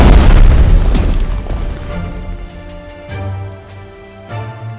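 Heavy booming explosions from naval gunfire in the WWII Pacific strategy game Strategic Mind: The Pacific, a loud blast at the start rolling off, followed by further thuds and a softer rumble with tonal music underneath.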